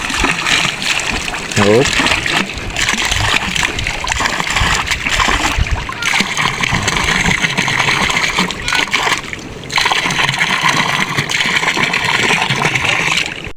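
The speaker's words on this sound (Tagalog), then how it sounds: "Lalabas na dito ang tubig. O, diba? Parang flowing." Water gushes steadily from a hose at an island home, a loud continuous splashing rush that runs under people talking throughout.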